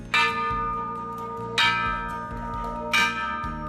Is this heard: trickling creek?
no